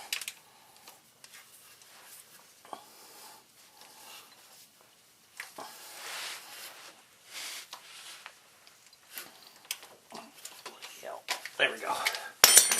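Adjustable wrench working loose a part during an oil change on a 1981 Triumph TR8: scattered metallic clinks and scrapes of tool on metal, close by, irregular and growing busier toward the end.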